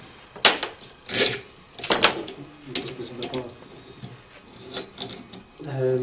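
External fixator pins for a pilon fracture being tightened by pulling out sleeves, a series of close scraping, rasping and clicking bursts mixed with a speaking voice.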